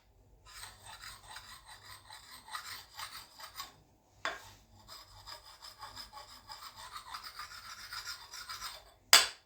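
A file rasps across the edge of an axe with a white oak handle to remove the burr during sharpening, quiet close-up scraping strokes in a steady rhythm, a short pause midway and a sharp final scrape.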